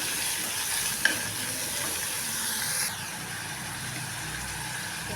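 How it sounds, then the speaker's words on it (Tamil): Onions, tomatoes and green chillies sauté in a pan for a village-style crab curry, giving a steady close sizzle and hiss throughout with a brief stirring clink near the start. "வெங்காயம் தக்காளியும் நல்லா வதங்கிட்டேன்."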